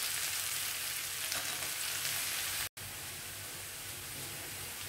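Sliced onions with curry leaves fry and slowly brown in a pan for egg masala curry, giving a steady, close, even sizzling hiss with one brief cut in the middle.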